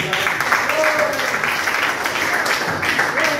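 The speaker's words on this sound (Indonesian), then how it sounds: "kita berikan aplaus untuk kelompok 2" Group applause in a classroom as a teaching-practice presentation opens for group 2: a steady, dense wash of clapping across the whole stretch, fairly loud and even, with a few voices mixed in.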